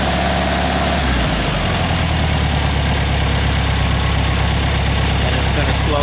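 A Volkswagen engine fitted with a Solex 34 PICT-3 carburettor idles loudly and up close, a low, even, steady throb that settles slightly slower, with no talk.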